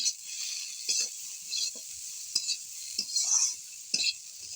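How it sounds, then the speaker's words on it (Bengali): Chili powder is stirred into a chira and vegetable khichuri in a pan, with a steady soft sizzle and scattered light scrapes and clinks of a spoon against the pot, close and quiet with no voices. "দিয়ে আবার একটু ভালো করে নেড়ে চেড়ে নেব।"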